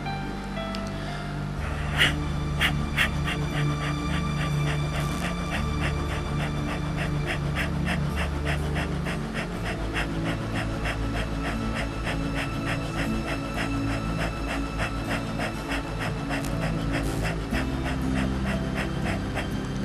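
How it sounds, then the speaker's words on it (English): Rapid, rhythmic forceful exhalations of Kapalbhati yoga breathing, a steady stream of short sharp puffs through the nose, close and continuous with no talking. "This was fast breathing, fast Kapalbhati."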